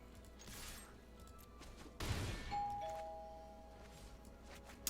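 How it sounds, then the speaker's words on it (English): A doorbell rings once indoors, a sharp burst followed by sustained ringing tones that fade slowly over a quiet room background. "I apologize to everybody's animals who just got excited by my doorbell"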